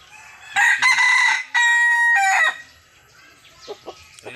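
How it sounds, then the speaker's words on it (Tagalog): Rooster crowing up close in a rural Filipino gathering: two loud, drawn-out crows back to back, the second a strained rising call, followed by faint scuffling and brief clucks. "Subukan mo na yung tilaok mo"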